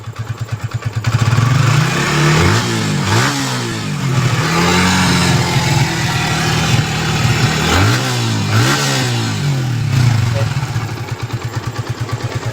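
A Yamaha motorcycle engine runs after an oil change repair, revving up and down repeatedly in steady mid-pitched pulses, close and loud throughout, with a voice talking over it.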